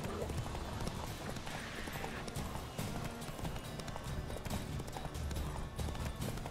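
Roach the horse's hooves in the video game The Witcher 3: Wild Hunt, a continuous rhythmic clip-clop of galloping over ground beneath game ambience, with a voice talking over it.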